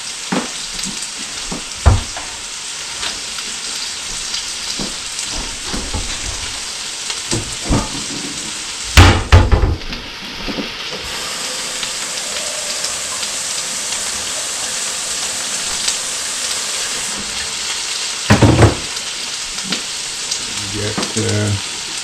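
Meat browns in a hot frying pan for shepherd's pie, a continuous crackling sizzle heard up close, broken by a few louder bursts and clatters as it is stirred.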